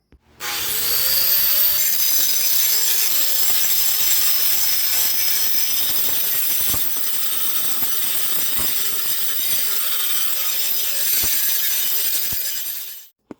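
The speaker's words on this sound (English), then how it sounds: "I'm going to grind off the scale and lay on our pattern." Steady abrasive grinding on a forged knife blade made from ball-bearing steel, stripping forge scale in a workshop; a continuous close, loud hiss runs about twelve seconds with a few faint ticks and no talk.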